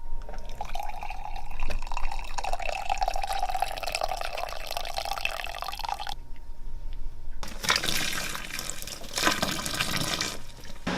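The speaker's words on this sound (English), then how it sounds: "make sure you get all of the wort out of the mash" Wort drains steadily from the mash while homebrewing an IPA, a continuous trickling pour for several seconds, followed by a brief gap and then a louder, splashier rush of liquid, with no talking.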